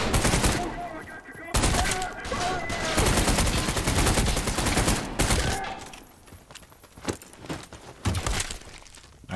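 Heavy automatic gunfire in the shooter video game Trepang2, loud sustained bursts that roll on for several seconds before breaking into scattered single shots and impacts.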